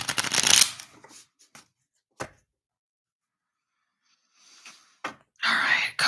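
Tarot cards being shuffled by hand in quick riffling bursts, close and crisp, with a long quiet gap between the shuffles.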